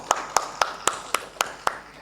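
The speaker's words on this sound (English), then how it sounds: "Let's give them a huge round of applause" Seven crisp, evenly spaced claps ring out close by at a panel discussion on sustainable packaging, a sparse start of applause for the panel members with quiet gaps between each hit.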